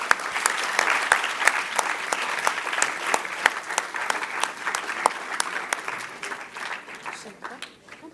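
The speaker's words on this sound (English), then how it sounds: "Let's give them a big applause." An audience applauds guests called up to a stage, a sustained round of close, crisp clapping with distinct individual claps standing out, gradually fading toward the end.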